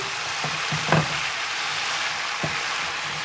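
Warm potato salad being tossed in a Dijon dressing, a few soft scraping clunks over a steady, close hiss, with no voices.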